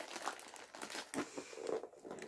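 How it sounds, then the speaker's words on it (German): A plastic candy bag from a childhood-sweets haul crinkles and tears open up close, a series of crackling rips and rustles in a quiet room. "Machst du jetzt ernsthaft die andere Tüte auch auf?"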